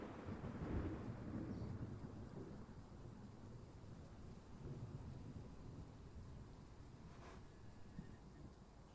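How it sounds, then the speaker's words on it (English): Low, rolling thunder rumbles through a heavy thunderstorm in Train Sim World 6 on the Medway Valley Line, with steady rain and wind noise throughout and no voices. "You hear the thunder as well."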